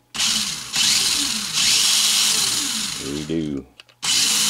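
A vintage-style RC car fitted with a modern electric motor whines loudly in sustained bursts as the throttle is worked, with a rising and falling pitch sweep near the end, a brief spoken reply, and then the motor roaring up again.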